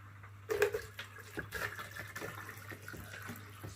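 Water splashes and trickles into a container at close range, quiet and uneven, with a low steady hum in the background; 500 ml of water being poured for mixing aquarium plant fertiliser.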